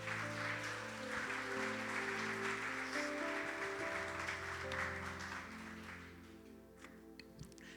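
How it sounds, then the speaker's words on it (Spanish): A church congregation gives a sustained round of applause, fairly distant and soft, under sustained tones, gradually thinning toward the end. "Dale un fuerte aplauso al Señor."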